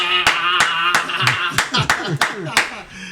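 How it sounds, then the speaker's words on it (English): Live studio audience on a talk show gives a guest a short burst of applause, crisp hand claps rising and falling over about three seconds while a voice speaks over them. "please help me welcome with a loud applause our own chief cartoonist himself, Sir Victor Asowata."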